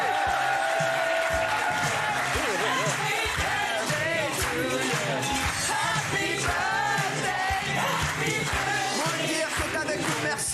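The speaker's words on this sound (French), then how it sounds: "Applaudissements pour lui" A studio audience breaks into loud, sustained applause with cheers and whoops for a guest's birthday, a dense wash of clapping and shouting that runs without pause.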